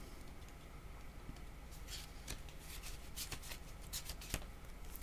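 Cards shuffled for a tarot-style card reading, a soft rapid riffle and flicking of cards with a few sharper snaps, close and quiet over faint background noise, no voice.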